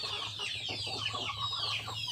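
KUB hens around five months old cluck in a colony cage at an egg farm, a soft continuous chorus of overlapping clucks and murmurs from many birds.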